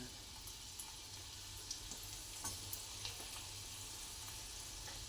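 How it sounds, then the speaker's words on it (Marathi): Garlic for a tadka frying in hot oil, a steady soft sizzle with faint pops and crackles throughout, low and continuous with no talk. "लसूण टाकून घेते आणि लसणाला आपण चांगलं तडक देऊ"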